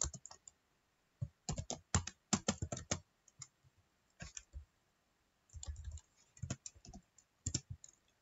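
Git commands typed on a computer keyboard in uneven bursts of crisp, close key clicks, with short pauses between words and no voices.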